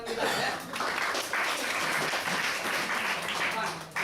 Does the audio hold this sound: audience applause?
yes